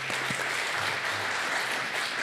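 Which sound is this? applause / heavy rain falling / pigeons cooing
applause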